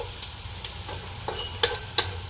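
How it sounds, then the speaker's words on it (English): Onions frying until tender in a pan give a low continuous sizzle, punctuated by scattered light scrapes and a couple of sharper clinks from a stirring utensil, with no talking. "So I got my onions getting all nice and tender here"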